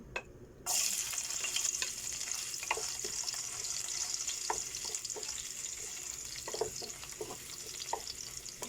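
Chicken gizzard fries in hot oil, a faint, steady sizzle with scattered small pops and crackles that begins abruptly and continues without any talk.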